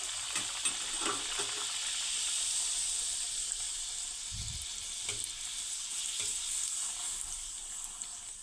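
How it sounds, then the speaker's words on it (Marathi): Puri drops into hot oil in a pan and fries, giving a continuous soft sizzling hiss with a few low bumps and light utensil taps, close but fairly quiet, with no talking. "तेल आपलं छान असं गरम झालेलं आहे आता याच्यामध्ये तयार केलेली पुरी टाकून घेऊया"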